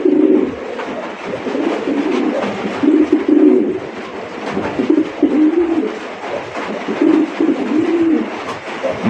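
Large red king pigeons of the Golla breed coo steadily in repeated low throaty phrases, fairly close, with faint background noise and no talking.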